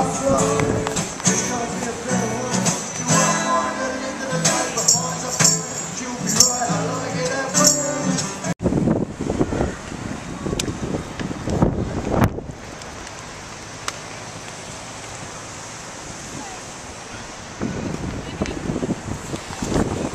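Live music fades out and gives way to gusty outdoor wind buffeting the microphone in Wellington's civic square, with scattered voices and street noise in the background.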